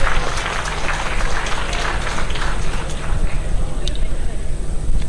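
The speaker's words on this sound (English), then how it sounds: "Can we please give him a big round of applause as he comes to share some closing remarks?" A conference audience gives a big round of applause for the closing speaker at a student leadership event; loud, sustained clapping runs throughout, with crowd noise and a few voices mixed in.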